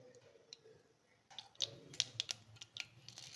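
Mustard seeds and urad dal spluttering in hot coconut oil. After a quiet start, faint, sharp, irregular pops and crackles break out in quick bursts.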